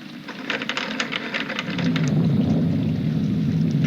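Steady rain with rolling thunder, a broad wash of rainfall that swells and thickens midway into a louder, continuous downpour with low rumbling beneath, no voices present.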